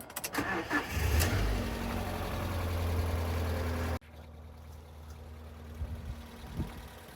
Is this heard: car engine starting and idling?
yes